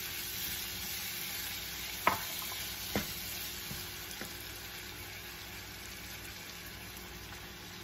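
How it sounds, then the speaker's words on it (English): Five chopped tomatoes frying in a pan for malai kofta, a faint steady sizzle with a couple of sharp clinks and stirring knocks near the start. "I'm going to add these tomatoes."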